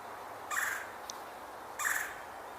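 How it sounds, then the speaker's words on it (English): A red-bellied woodpecker gives two harsh, rolling calls about a second apart, heard outdoors at moderate distance over a faint steady background with no talking. "hearing a red-bellied woodpecker."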